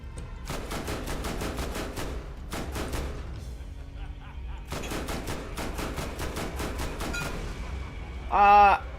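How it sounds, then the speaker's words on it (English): A detonating SMG in Borderlands fires in rapid, loud bursts of explosive shots, with short pauses between volleys and a brief electronic tone at the end. "try this detonating SMG out"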